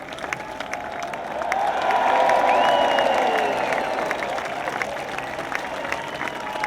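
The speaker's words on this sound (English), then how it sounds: "He left the crowd cheering as he stepped onto the podium" A crowd cheers and applauds at the Formula E London ePrix in Battersea Park as Sam Bird takes the podium after his home win. The sustained, dense roar swells after the first couple of seconds and stays loud throughout.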